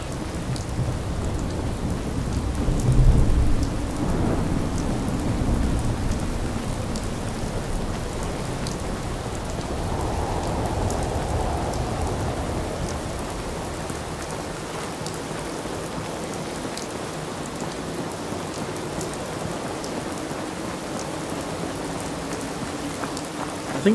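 Steady sleet and rain hiss across a Fallout 4 wasteland, a broad continuous wash with a low rumble swelling near the start and again midway, no voices over it.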